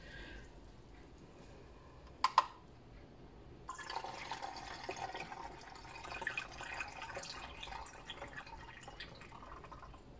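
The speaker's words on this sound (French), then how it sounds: "Et je vais rajouter 200 ml d'eau." About 200 ml of water pours into a homemade cleaning product mixture, a short splash followed by a soft, steady trickle and gurgle at close range.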